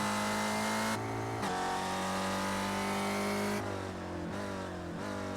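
Ford race car from the iSpec Racer Ford Challenge sim racing game, engine droning steadily at high revs with pitch dropping on downshifts and braking into a hairpin, loud and continuous with no talk.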